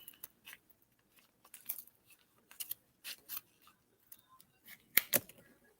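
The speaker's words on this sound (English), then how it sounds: "So you'll need your scissors also. So all you'll do is you'll cut on the line." Scissors snip a Capri Sun drink pouch in a series of quiet, close clicks and crisp cuts, spaced irregularly. A sharper snip comes near the end.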